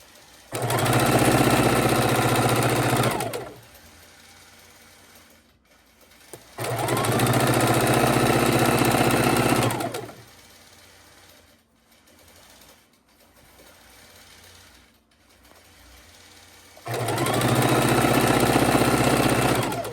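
A sewing machine stitches fabric scraps together for a scrappy quilt, running in three steady bursts of rapid mechanical whirring, each a few seconds long, with quiet pauses between them.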